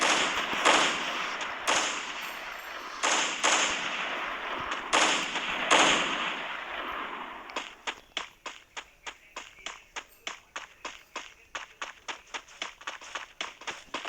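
Sniper rifle shots fire in a video game, a series of sharp close cracks that speed up into rapid repeated bursts after a few slower, spaced blasts, with no talking.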